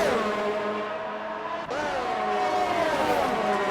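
Formula 1 racing cars at the Brazilian Grand Prix in a video game howl loud and close, one engine note climbing, dropping sharply at a gear change and climbing again, with other cars whining along behind.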